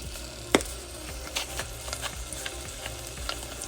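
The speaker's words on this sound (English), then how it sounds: "you're just going to put them in the pan and brown them a little bit" Meatballs brown in hot oil in a pan, sizzling steadily with a sharp clatter near the start and occasional scraping stirs, close and continuous with no talking.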